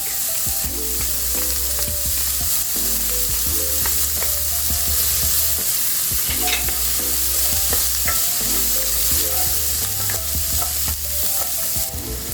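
White onion and garlic sauté in a pan with ground pork to follow, a loud, continuous sizzle broken by repeated scraping stirs and clinks of a utensil.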